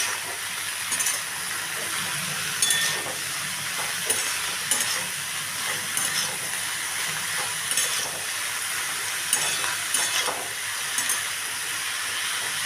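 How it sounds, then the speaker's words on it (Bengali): Steady sizzling of snake gourd and potatoes frying in a pan, with soft periodic scrapes of stirring recurring every second or so, close and continuous. "আমি চিচিঙ্গার আলুটা দিয়ে আবারও একটু নাড়িয়ে নিচ্ছি"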